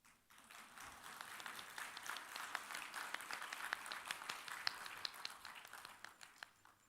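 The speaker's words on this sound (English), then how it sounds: "Give a clap, huh?" An audience claps at a book launch, a soft, fairly distant burst of applause that swells, holds for several seconds, then fades.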